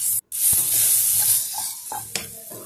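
Onion frying with ginger garlic paste sizzles loudly and steadily in a pan, with a few sharp scrapes and taps from stirring.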